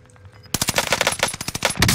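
Automaton gun in Call of Duty Warzone on Rebirth Island firing a fast, loud automatic burst of rapid sharp shots after a quiet opening half second.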